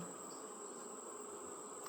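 Honey bees hum at a hive in a faint steady buzz that runs unbroken, close but quiet, with no voices.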